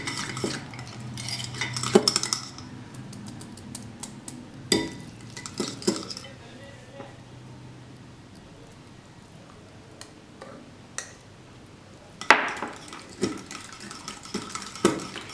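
A whisk beats hung curd with mango puree in a bowl, giving irregular bursts of clinking and tapping against the bowl with quieter pauses between them and a final flurry of strokes.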